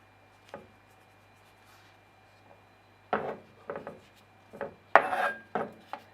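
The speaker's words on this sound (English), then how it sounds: "Cut the Scotch bonnet down like that." A knife cuts a Scotch bonnet pepper on a cutting board while Jamaican pepper prawns are being prepared. After a quiet start come several close, sharp knocks and slices in short irregular bursts, with no talking.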